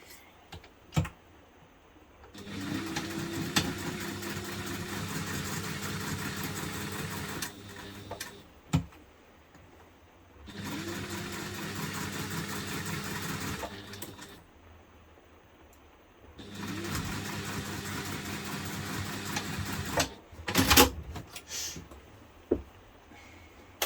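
Sewing machine stitching two seam lines on a Tallulah hipster bag, in three sustained runs of steady motor whirr and needle rattle, each a few seconds long, separated by short pauses with small clicks.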